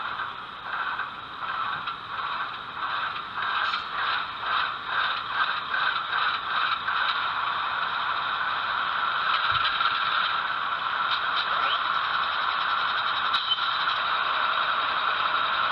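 An HO scale model diesel locomotive's sound decoder runs through its startup, with a steady mechanical rumble and rattling, clattery pulses that settle into a continuous idle drone, close and moderately loud with no talking.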